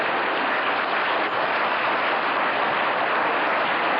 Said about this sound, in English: You get all that applause just for singing the title.